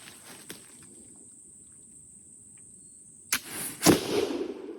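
A Pedersoli flintlock dueling pistol fires after a few quiet seconds: a sharp crack, then a louder, fuller blast about half a second later, with a brief rumbling tail.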